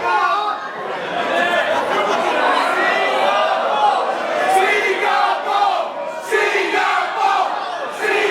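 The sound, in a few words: hometown wrestling crowd chanting Singapore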